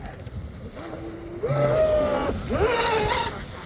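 A Proboat SonicWake 36 RC boat with an oddly shaped prop runs on open water, its electric motor rising to a whining rev in two strong bursts over steady wind and water noise.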